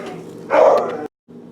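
A dog barks once, close and loud, then the sound cuts off briefly before a quieter vocal tail follows.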